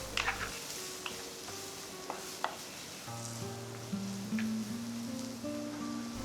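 Chopped garlic cloves and green chillies sauté in a pan with a soft, steady sizzle and a few light stirring clicks. Everything sounds fairly quiet, with a faint tonal hum underneath.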